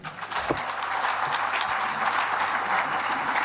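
Applause from an audience at an international forum of engaged Congolese, honoring national heroes: a steady, dense wash of clapping that holds at even strength for several seconds without pause.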